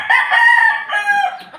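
A single loud, close rooster crow from a three-month-old backyard chicken, a strained two-part call lasting under two seconds.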